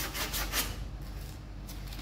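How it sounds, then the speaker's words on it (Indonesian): Coarse red sandpaper rasps in quick, repeated close-up strokes, a rough scratchy rubbing that carries on steadily. "Amplasnya gua pakai amplas merah"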